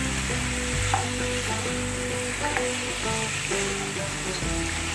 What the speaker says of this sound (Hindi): अब हल्दी पाउडर को डालने के बाद इसको अच्छी तरह से मिक्स करना है